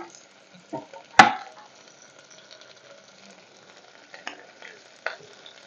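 Chopped beans and carrots fry in a pan with a faint sizzle, broken by a sharp clatter of a stirring spoon early on and a few lighter scrapes and taps later, fairly quiet overall.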